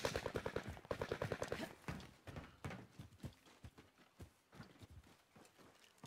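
Rapid gunfire from the video game Warzone rattles in dense bursts at the start, then thins into scattered single shots and softer impacts.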